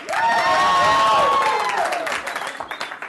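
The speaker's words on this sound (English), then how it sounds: "By a round of applause and your level of excitement, tell those who haven't seen me before how much fun they're going to have tonight." A live audience at a comedy show erupts in loud, close cheering and whooping over applause, then breaks into scattered claps and shouts as it dies down.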